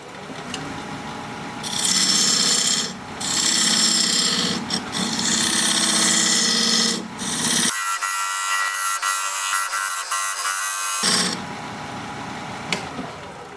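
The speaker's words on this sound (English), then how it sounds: "Now I'm going to use this diamond point tool to square up the sides of the tenon." Diamond point tool cutting a walnut tenon on a spinning wood lathe, loud scraping passes in a few sustained bursts over the steady hum of the machine, close by with no talking.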